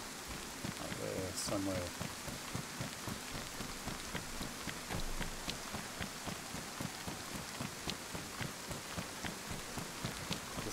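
Steady rain from the DayZ survival game, a dense patter of drops falling on surfaces throughout, with a few heavier thuds early on and a voice speaking briefly.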